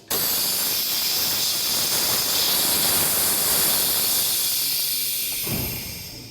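Steady, loud hiss of air escaping from the pneumatic valve of a tilting mounting arm, continuous for several seconds before easing off slightly at the end.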